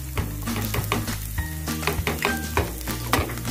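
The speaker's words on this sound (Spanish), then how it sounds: "aquí voy a echar la cebolla" Onion goes into a hot pan for potatoes with longaniza, crackling in a loud, continuous sizzle with repeated stirring scrapes and clinks, up close and without voices.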